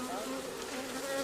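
Dense, steady buzzing of thousands of honeybees in a beehive, heard close up and continuous with a droning hum throughout.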